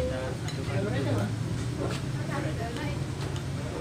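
A utensil stirring and clinking against a plate of fried bean sprouts (toge goreng) at a Bogor food stall, soft scraping and light clinks under steady background chatter and talk.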